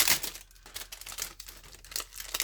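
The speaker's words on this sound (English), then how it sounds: "lots of rustling." Fussy-cut paper poinsettia card pieces rustle and crinkle close by in quick, uneven bursts of dry paper handling, with no talking.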